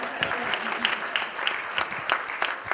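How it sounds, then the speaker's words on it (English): A crowd at a youth summit gives a round of applause, with lively clapping that rises and falls and a few sharper individual claps standing out near the front. "please give her a round of applause for not slapping me"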